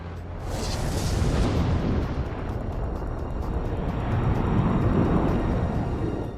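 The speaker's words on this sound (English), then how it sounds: "The first atomic bomb detonates on July 16," Documentary effect of the first atomic bomb detonation in July 1945: a deep, sustained roaring blast that rises after a brief bright crack and rolls on as a heavy, even rumble without pause.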